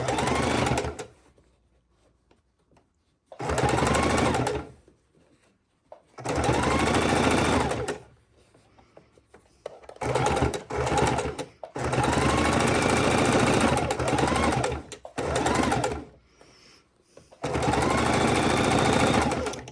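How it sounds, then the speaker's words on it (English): A sewing machine stitches a decorative edge around the top of a fabric soup bowl cozy, running in several loud bursts of steady whirring separated by short pauses. "we're just doing that decorative look around the top edge of the bowl"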